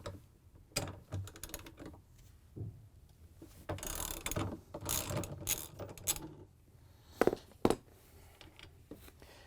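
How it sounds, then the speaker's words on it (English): A socket works a 17mm nut off the rotor of a Samsung washer clutch assembly, giving quiet irregular ratcheting clicks and metallic rattles up close, with scattered handling noises between bursts. "We're going to use a socket and take it off."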